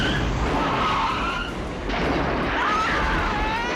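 A truck skids and flips over in a film scene, a sustained loud tire screech and rumbling crash noise with a brief dip midway before the roar resumes, no voices.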